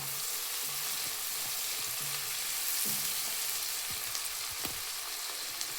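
Whole garam masala and onion frying in hot oil, a steady close sizzle throughout with small bursts of crackle and occasional stirring clinks.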